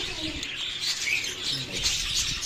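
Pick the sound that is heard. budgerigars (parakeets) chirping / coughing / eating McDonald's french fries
budgerigars (parakeets) chirping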